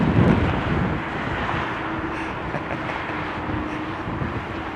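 An Aer Lingus Airbus A320 lands at London Heathrow in stormy wind, heard as a steady, fairly loud broadband roar with gusty wind buffeting and a faint low drone throughout, with no voices.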